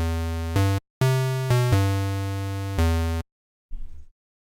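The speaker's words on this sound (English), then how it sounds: "we get this square wave mixed with a saw wave, but we want a square." Square-wave bass synth from the Massive software synthesizer plays four buzzy sustained notes with changing pitch, each fading slightly, followed by a short faint blip after a gap of silence.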